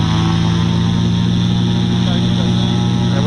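Aircraft engine at full-throttle run-up before takeoff at Carson City airport, a loud, steady droning roar with constant propeller hum throughout.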